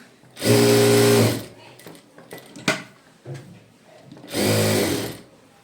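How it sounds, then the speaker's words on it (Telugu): Sewing machine stitching piping around cloth for an invisible-thread piping finish, two loud close motor runs of about a second each separated by quieter handling clicks and shuffling of fabric. "ఇప్పుడు ఇలా చుట్టూ క్లాత్ చూసుకొని అయితే స్టిచ్ వేసుకోండి"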